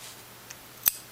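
A single crisp snip of scissors cutting through orange felt while trimming a needle-felted charm, close and quiet, preceded by a faint tick.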